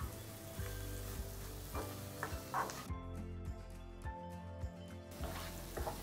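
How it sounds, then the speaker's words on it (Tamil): Potato fry stirred in a pan over a medium flame, with continuous crackling sizzle and regular scraping strokes of a spoon, close and fairly quiet throughout. "அஞ்சுலேருந்து 7 நிமிஷம் மீடியம் ஃப்ளேமில் கிண்டிக்கிட்டே இருங்க."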